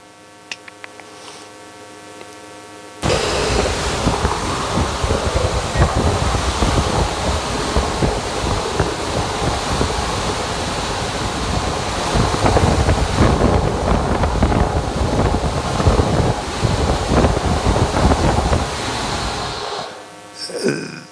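Hurricane Maria's eye wall passing about 20 miles away sends a sustained, loud roar of wind buffeting the microphone. It starts abruptly and continues steadily for some seventeen seconds before cutting off.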